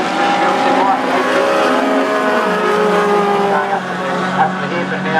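A race car at the 2013 NZ Grand Prix meeting, its engine roaring loud and steady with shifting pitch, close to the microphone throughout.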